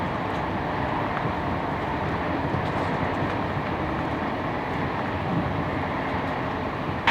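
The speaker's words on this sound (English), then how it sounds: "So now that the train has set off," Steady low rumble and rattle of a moving first-class passenger train from Fes to Casablanca in Morocco, continuous and fairly loud from start to finish.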